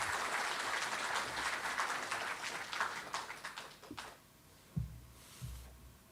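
Applause from a conference audience fills the first four seconds, dense and steady, then fades away, leaving a couple of soft thumps in a quiet room.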